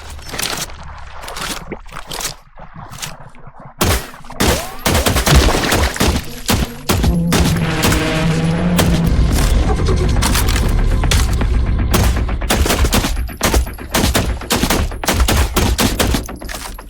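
Rapid, loud pistol gunfire in the video game The Last Caretaker crackles in dense bursts with some booming hits, nearly nonstop for the whole stretch.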